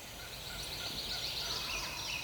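Wild turkeys gobbling in the distance outdoors, several faint repeated gobbles carrying over a steady background hiss, with no voices.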